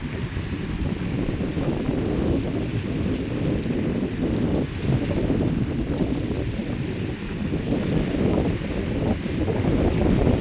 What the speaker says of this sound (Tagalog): Hangin, ang ganda dito guys, hangin.